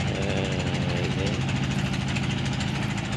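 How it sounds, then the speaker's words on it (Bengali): Engine boat running on a foggy river in the morning, a steady low motor chug with a knocking throb, fairly loud and continuous, with a voice faintly mixed in. "নদীতে হয়তো নৌকা চলাচলের মানে ইঞ্জিন বোট চলাচলের শব্দ শুনতে পাইতেছেন"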